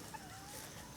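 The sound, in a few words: chicken clucking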